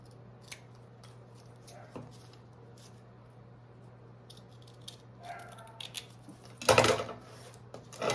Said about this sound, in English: I didn't trim my zipper tabs down